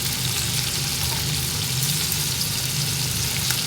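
Mixed vegetables for a gravy are stirred and fried in hot oil, giving a loud, steady, close sizzle with faint scraping of the stirring, continuous throughout with no talk.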